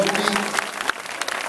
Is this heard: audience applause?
yes